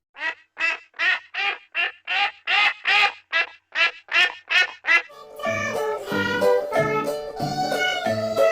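A duck gives a run of about a dozen evenly spaced, loud, close quacks, followed by a denser, overlapping stretch of harsher quacking and squawks.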